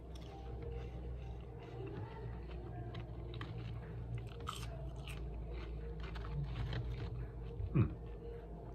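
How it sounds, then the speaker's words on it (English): Someone eats sweet, salted potato fries or chips close up, giving soft crunchy bites and chewing over a low background hum, with one sharper crunch near the end. "so the potato here is like these fries or chips, kind of sweet actually"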